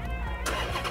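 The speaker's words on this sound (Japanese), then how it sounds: "ちょっと土屋さん、エンジンかけてください。" A Dodge Challenger V8 engine fires up, a brief loud starter whir that jumps into a rumbling catch, heard close.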